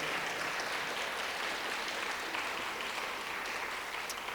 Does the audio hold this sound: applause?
yes